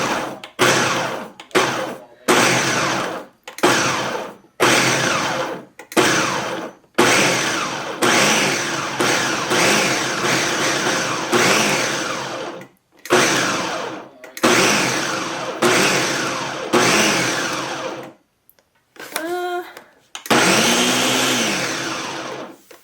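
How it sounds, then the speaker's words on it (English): A kitchen blender pulsing a cheese cracker mixture until crumbly, whirring in a dozen short bursts with brief silences between them, then longer runs, close and loud. "I'm just gonna hit pulse on my blender and just keep doing that."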